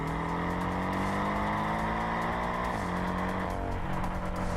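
Porsche 718 Cayman engine growls loud and steady, its pitch rising and falling as the car is pushed harder, with no talk over it.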